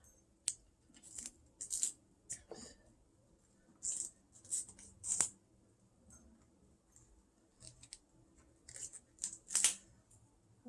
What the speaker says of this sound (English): there's still some leaves under here, so I'm going to pull some more of those off.